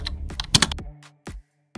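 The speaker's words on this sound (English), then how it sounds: "Type text on your phone using the PC keyboard." Keystrokes on a PC keyboard used to type text into a phone, a quick cluster of close clicks followed by two isolated taps after a short pause.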